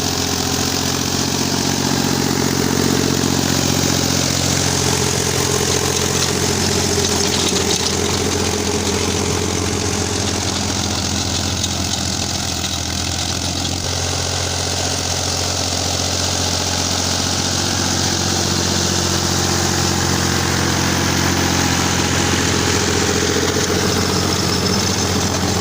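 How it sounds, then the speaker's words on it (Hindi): A Ghazi tractor pulling a rotavator in low second gear runs with a steady, loud diesel drone and heavy low rumble, holding an even, unbroken engine note throughout with no talking. "लो का दूसरा गियर हम इस्तेमाल कर रहे हैं। ट्रैक्टर इसमें ठीक चलता है बेहतरीन परफॉर्मेंस के साथ।"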